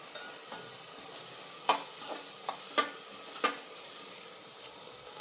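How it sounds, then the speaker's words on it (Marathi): Onion frying in a pan for pav bhaji, a steady faint sizzle with scattered sharp scrapes and clicks of a spoon stirring against the pan, no voices. "आता याच्यामध्ये कांदा टाकून घ्यायचा बघा कांदा असा चांगला लाल मोडीवर होईपर्यंत आपल्याला भाजून घ्यायचा"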